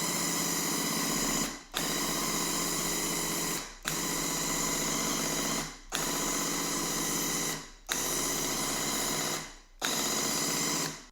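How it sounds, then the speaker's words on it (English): A paint sprayer laying paint onto a panel, running in about five steady hissing, whirring bursts of around two seconds each, separated by short silent gaps. "So let's go ahead and get some paint down on this panel."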